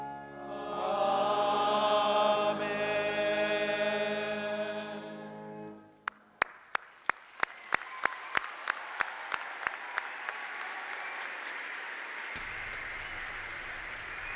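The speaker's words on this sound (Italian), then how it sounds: "con l'applauso dei fedeli riuniti in aula Paolo VI" The faithful gathered in the Paul VI Audience Hall at a papal general audience break into applause after sustained organ-like music fades, with a run of sharp isolated claps swelling into a steady, moderately distant ovation.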